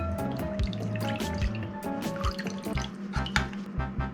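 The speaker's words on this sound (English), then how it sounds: "first, we're gonna add our milk" Milk is poured into a bowl, a gurgling liquid stream with dripping and splashing close by, and no one speaks.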